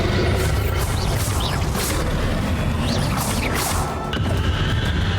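Confringo spell blast in the Hogwarts Legacy video game: a loud crashing explosion with whooshing bursts over a dense, continuous rumble of game effects.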